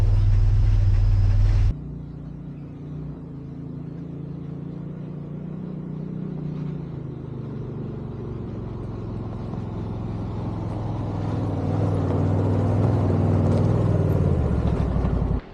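A UTV pulling a tiny camping trailer rumbles along in bear country and rolls into a campsite, its low engine drone steady and close after a brief louder burst at the start, building slightly near the end.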